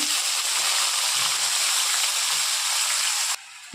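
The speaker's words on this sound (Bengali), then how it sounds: "আলুটা ভাজা হয়ে গেছে, এখন" Cabbage goes into a frying pan of already fried potatoes, giving a dense hissing sizzle that holds steady and then drops off abruptly near the end.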